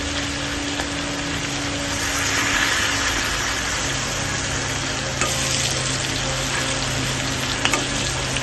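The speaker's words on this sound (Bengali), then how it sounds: "হলুদ দিয়ে আরেকটু ভেজে নেবো" Vegetable masala with turmeric frying steadily in a pan, a continuous loud sizzle with faint stirring scrapes throughout and no voices.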